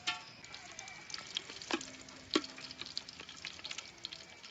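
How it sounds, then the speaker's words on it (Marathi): Whole spices frying in hot oil for a mutton dish, a faint, close sizzle with light crackles and a few clinks of a utensil against the pan, quiet and uninterrupted. "तेल गरम झालं की खडा मसाला टाकून घेते सगळं."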